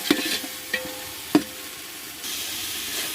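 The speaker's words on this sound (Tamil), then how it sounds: "அடுத்தது வெங்காயம் அப்புறம் இஞ்சி பூண்டு பேஸ்ட்டு அது நல்லா வதங்கினதும் தக்காளி போட்டு இப்போ வதக்கிட்டுருக்கோம்" Onion, ginger-garlic paste and tomato sauté in a pan for home-style chicken biryani, heard as a faint low sizzle broken by a few sharp spoon clicks and taps, with the hiss swelling slightly toward the end.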